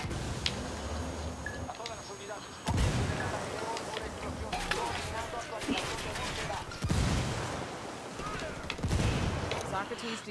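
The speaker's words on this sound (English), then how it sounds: "Those are grenades." Grenade blasts and gunfire in a video game battle, bursts of explosions and shots erupting repeatedly at moderate loudness beneath excited players talking over the action.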